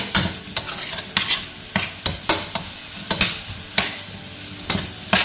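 A spoon stirs apple cinnamon porridge in a pot, making close, repeated scraping knocks about twice a second over a faint continuous simmer.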